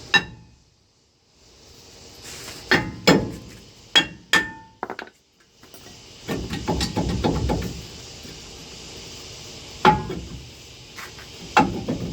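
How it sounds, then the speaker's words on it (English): A seized brake rotor is struck off with a hammer: sharp metallic blows ring out in separated clusters, some close and loud with clinking decay, between stretches of quieter rattling and scraping. "Maybe I gotta just get it off with the hammer now."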